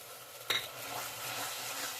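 Turmeric and Kashmiri chilli powder paste fries in a pan for a jackfruit and prawn curry, giving a steady close sizzle, with one sharp clink of a spoon against the pan near the start.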